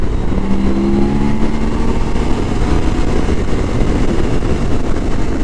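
A 2023 BMW K1600 B six-cylinder motorcycle accelerating hard from 4,000 RPM at highway speed, its engine note climbing loud and steady over heavy wind rush.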